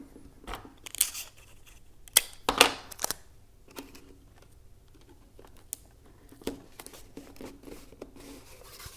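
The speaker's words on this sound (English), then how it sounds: "just a little bit of Scotch tape will do. We'll tape that down to the end." Scotch tape pulled and pressed down onto the end of a homemade spectroscope, giving a few crisp rips and crinkles between quiet gaps, close and fairly soft.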